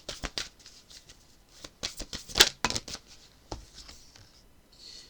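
Tarot cards are shuffled by hand in short bursts, crisp riffling flicks and slaps repeating irregularly and close up, with quiet pauses between and no talking.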